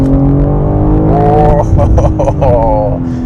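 A BMW M3 Competition xDrive with all-wheel drive revs hard and loud, its engine note rising and falling through several sharp blips while a person talks over it.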